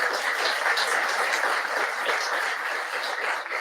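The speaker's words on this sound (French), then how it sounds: "On l'applaudit très, très, très fort, s'il vous plaît." Loud, dense applause from a ceremony audience honoring a hackathon laureate at a prize-cheque presentation, sustained evenly for several seconds before tapering slightly.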